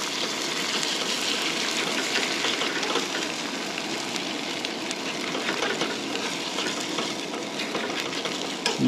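Cracked eggs scramble in a hot pan for a crispy bacon breakfast burrito, a constant close crackling sizzle with stirring and scraping sounds, no voices heard.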